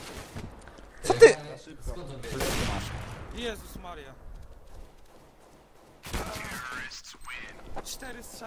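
Rapid bursts of gunfire in Counter-Strike: Global Offensive crack sharply in two clusters, near and punchy, with excited players talking over and between the shots.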